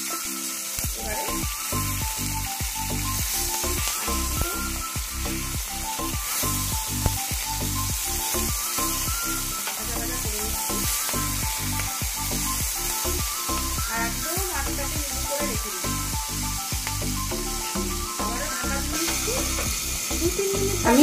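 Fish frying in hot oil in a pan, with a loud, steady sizzle and frequent close scraping and clattering of a spatula turning the pieces throughout.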